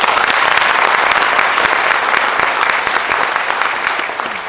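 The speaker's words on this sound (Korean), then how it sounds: "박수!" Sustained, dense audience applause fills a hall after a call to clap during a speech about tourism in Geumsan, holding steady throughout and fading slightly at the end.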